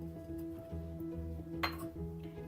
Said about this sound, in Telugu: ఇప్పుడు పొయ్యి మీద గిన్నె పెట్టాను